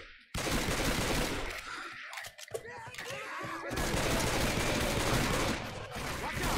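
Rapid pistol gunfire in Left 4 Dead 2, with dual-wielded pistols firing in dense, loud bursts through most of the stretch and a brief lull near the start of the second third.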